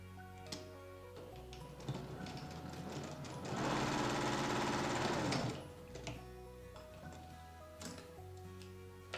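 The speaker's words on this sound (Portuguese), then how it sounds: "vou botar o forro pro lado e vou costurar de novo, a partir aqui do ponto onde eu parei a costura e vou até o final" Sewing machine stitching the lining of a trapezoid-shaped makeup bag, a steady mechanical whirring run that swells louder in the middle and then eases off, with lighter ticking clicks around it and no talk.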